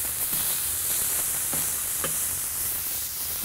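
Beef patties and onions sizzle loudly on a hot griddle, a dense steady frying hiss with occasional scrapes and clicks of a spatula, close and alone without voices.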